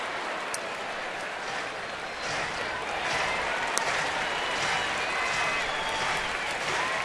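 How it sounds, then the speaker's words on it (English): A baseball stadium crowd of Yankees and home fans cheering and applauding, a dense, steady roar of clapping and voices that swells slightly partway through and stays loud throughout. "this crowd seems to be a little more energetic, just a little bit more than the first 2."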